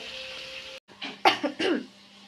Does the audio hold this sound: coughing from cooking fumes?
yes